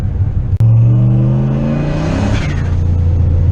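A turbocharged car engine is held down in gear and revs hard into boost, spiking to 12 pounds with an eBay dual-stage boost controller. A loud, steady droning roar climbs in pitch, then eases off, with a brief click early on.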